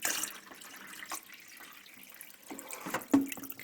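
Water poured by hand into an espresso machine's reservoir, a brief close splashing and trickle that swells near the end before cutting off, with no talking.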